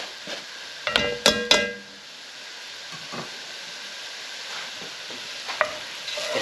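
A spoon stirs lentils into frying bacon in a pot, with a few sharp scraping clatters against the metal over a low, steady sizzle.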